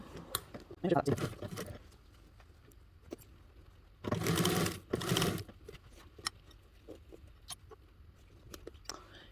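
A home sewing machine stitches fabric in short bursts, two louder runs of rapid mechanical whirring separated by quiet handling clicks and soft rustles, with faint speech-like murmuring in places.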